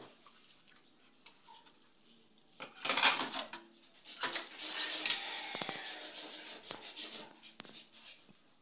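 Plates and dishes being washed at a campsite, scattered clinks and clatters of crockery and utensils with splashing, close and moderately loud, no talk.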